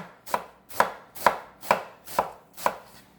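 A knife shreds napa cabbage for egg roll slaw on a cutting board, six evenly spaced, crisp chopping strokes, each a sharp close thud after a brief slicing rush, with no talking.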